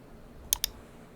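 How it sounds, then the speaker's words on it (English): Two quick, crisp computer mouse clicks close together, faint and isolated against a quiet background while working in Photoshop. "Click on OK."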